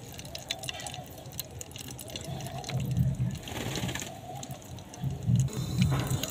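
Melted wax going into water, heard as continuous watery splashing and trickling with a couple of louder sloshing swells, fairly close, no talking.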